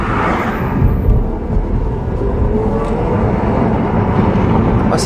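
An Opel Ampera-e electric car pulling away on a town road, a continuous low rumble of road and motor noise swelling slightly as it gathers speed, with no talk over it.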